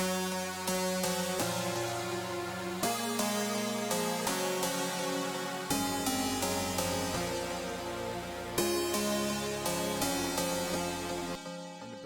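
Bright synth plucks with heavy OTT compression play a bouncing melody over sustained chords and bass, with notes echoing through a delay; continuous music, no voices.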